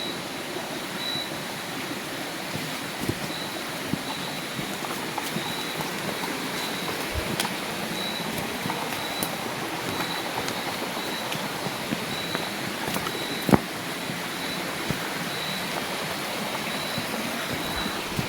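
Steady rushing of a flowing river at night, a broad continuous hiss at moderate distance, with a faint high tone and a few scattered clicks.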